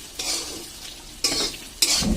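Potatoes fry in a pan for aloo bhaji, with a steady close sizzle broken by three bursts of stirring scrapes, the last two louder and longer, and no talking.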